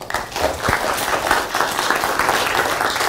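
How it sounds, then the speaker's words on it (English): Applause from a lecture audience greeting the speaker at a university institute's life sciences rising star lecture: steady, dense clapping from many hands, fairly close and sustained throughout. "So let's give a warm applause to Dr."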